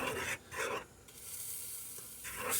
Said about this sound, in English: Cooking macaroni and cheese.